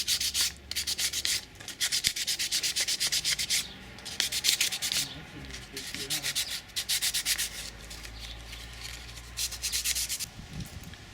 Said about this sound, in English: we started off with coarse sandpaper, and we're working up to fine sandpaper